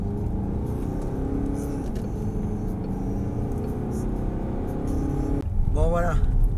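A car engine drones steadily from inside the cabin as the driver accelerates to overtake on the road, with a louder surge of revving near the end.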